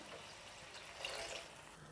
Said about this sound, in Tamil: 2 கிளாஸ் அளவுக்கு தண்ணி சேர்த்துருக்கேன்